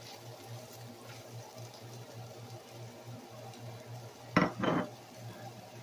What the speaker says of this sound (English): So here we're going to add the onions.